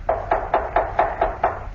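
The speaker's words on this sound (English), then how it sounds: "Who's knocking?" Seven steady, evenly spaced knocks on a wooden door, firm and close, with no voices.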